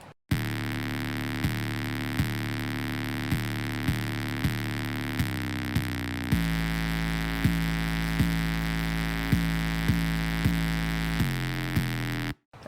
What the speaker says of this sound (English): I started out with the 808 just to match the chords